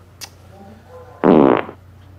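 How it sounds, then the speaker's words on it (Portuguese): A loud, buzzing fart rips out for about half a second, close up, after a quiet stretch with faint background sounds. "Foi um peido desse que derrubou as Torres Gêmeas"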